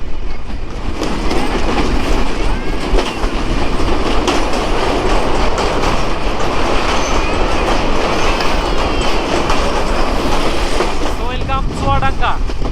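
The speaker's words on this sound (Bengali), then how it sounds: "ফাইনালি ছেড়ে যাচ্ছি আলমডাঙ্গা রেলওয়ে স্টেশন" Sundarban Express leaving old Alamdanga railway station, heard from aboard: a steady loud rumble of wheels with rhythmic clicking over rail joints and brief squeals near the end, continuous and close.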